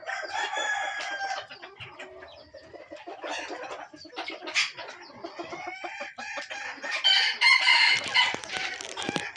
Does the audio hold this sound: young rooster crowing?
yes